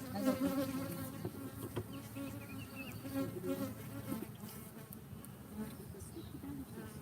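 Honeybees swarming around a hive at an apiary on a hot day, a dense, steady buzzing that fills the clip at close range, with a few louder passes of bees flying near.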